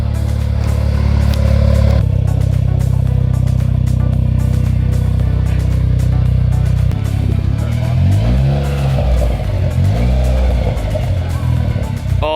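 A Dodge SRT4 with a custom exhaust, loud and close, idling roughly and then revving up and down in several rising and falling sweeps.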